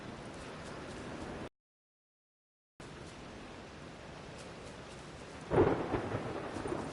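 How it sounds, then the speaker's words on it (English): Game rain and thunder in The Witcher 3: Wild Hunt, a steady hiss of rainfall broken by a brief gap of silence, then a loud rolling thunderclap that rumbles on to the end. "Rain. The one thing that's ploughing free in this city."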